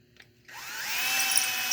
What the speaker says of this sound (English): Now I go back to drilling on that one